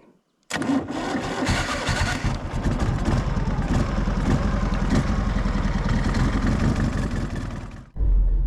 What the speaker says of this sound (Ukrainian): Не знаю, стартер чи запустить, тому що акумуляторик треба зарядити.